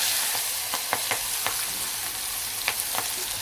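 Vegetables and spices frying in a pan with a steady hiss of hot oil close by, broken by a few scattered scraping clicks as the mixture is stirred.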